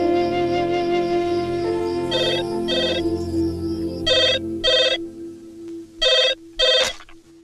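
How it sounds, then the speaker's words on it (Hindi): A telephone rings in repeated double bursts of a bright bell tone against a steady musical background hum, loud and close, with no talk over it. "वो घर से फोन था।"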